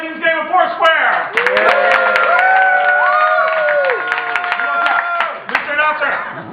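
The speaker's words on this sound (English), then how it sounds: "Please applaud now for the red team's game of 4 square." Audience at an improv class graduation show claps and cheers enthusiastically, with whoops and shouting voices over sustained applause that fades near the end.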